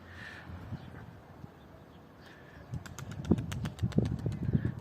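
A pigeon's wings flap and clatter in a quick burst of beats near the end, following quieter rustling and outdoor background noise.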